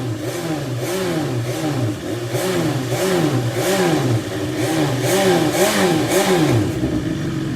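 A BMW S1000XR motorcycle revved repeatedly through its exhaust, each loud blip rising and falling in a steady rhythm of roughly one per second, close and continuous without talk.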